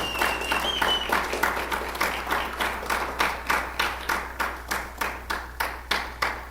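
A church congregation claps in a steady, rhythmic beat, roughly two claps per second, filling the room evenly with a low hum underneath.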